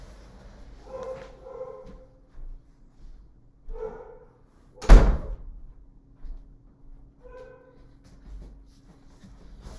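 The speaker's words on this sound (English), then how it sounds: "my dogs are lunatics and we're barking their heads off" Dogs barking indoors in short bursts a couple of seconds apart, moderately distant, with one sharp loud thud in the middle and soft whimpering between.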